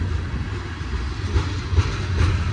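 BNSF freight tank cars roll steadily past nearby, giving a continuous low rumble with rhythmic clicks as wheels pass over rail joints.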